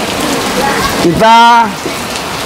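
Heavy rain falls steadily beside a mosque during an outdoor baptism gathering, a dense continuous patter under a brief spoken word from a nearby man.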